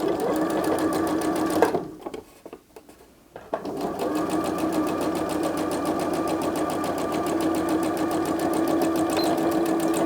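A sewing machine stitches continuously and loudly up close while backstitching fabric for a small Easter bunny-ear bag, with a brief pause near the start before the steady rapid whirr resumes.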